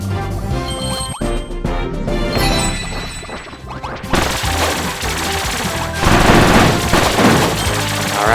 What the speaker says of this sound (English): with the machine guns